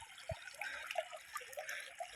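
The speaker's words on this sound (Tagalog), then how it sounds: "maliit na ilog" A small river flowing through a park in Germany gives a soft, faint trickle and babble of water, steady and close by, with no voices.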